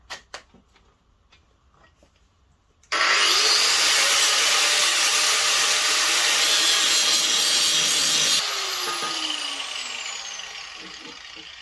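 A grinder works the edges of scrap metal for a workbench. A few faint knocks come first, then a loud, sustained, harsh grinding whine that holds steady before tapering off as the disc spins down.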